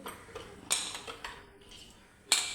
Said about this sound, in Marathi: झाकण लावून घ्यायचं